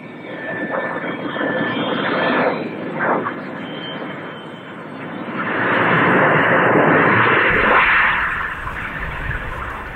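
A de Havilland DH.106 Comet jet airliner roars steadily and loudly, its broad engine noise swelling toward the middle of the stretch with a faint whine above it, and no talking.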